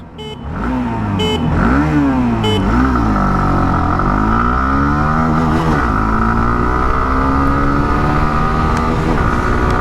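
A 2026 Hero Xtreme 160R 2V motorcycle accelerates hard through several gears in an acceleration test, each rising engine whine broken by a quick shift before climbing again, loud, close and continuous with no talk.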